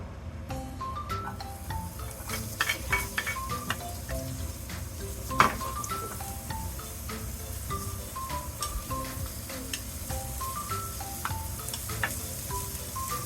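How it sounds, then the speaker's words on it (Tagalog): Chopped onion sautéing in a pan for a meatless vegetable lumpia filling of chayote and bean sprouts, a steady close sizzle and crackle running throughout with small ticks and clinks of stirring, no talking. "Ayan, ang pagigisa ko."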